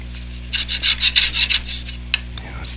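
A dull carving tool tears into wood while carving a seal, giving a run of about six close, rasping scrapes in a steady rhythm, then a sharp click and one more short scrape. No one speaks.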